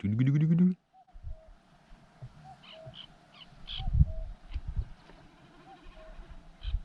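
A bird calling outdoors near garden beds, with short tonal calls scattered through the scene over low background rumble and brief talk.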